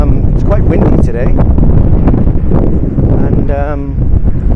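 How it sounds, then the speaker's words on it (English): Strong wind buffets the microphone by Waterton Lake, a loud steady rumble with gusts, while a person talks over it. "It's quite windy today,"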